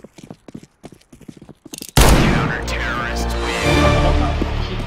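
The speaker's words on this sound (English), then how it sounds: "He crouched to shoot his revolver" Revolver shots ring out in Counter-Strike, a loud, sudden burst of gunfire that starts partway through and keeps echoing with heavy noise, after a stretch of quieter sounds.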